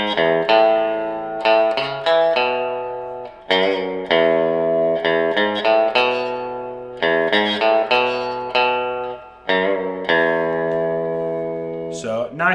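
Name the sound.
electric guitar riff with reverb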